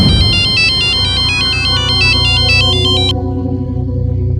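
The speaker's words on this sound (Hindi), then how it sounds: "मुझे साहब का फोन आया" A phone ringtone for an incoming call in a Hindi courtroom drama plays a loud, bright repeating electronic melody over a low sustained backing, then cuts off near the end while the lower tones linger.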